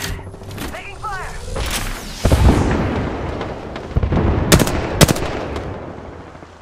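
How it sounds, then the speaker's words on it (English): Gunfire in the Apex Legends video game, a burst of shots and sharp cracks amid loud battle noise, with in-game voice chatter over it and several distinct loud impacts near the end. "Taking fire!"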